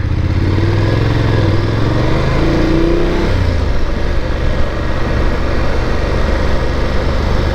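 A motorcycle engine drones steadily from the rider's position while cruising, with low rumbling tones shifting briefly before settling into a constant loud hum of wind and engine.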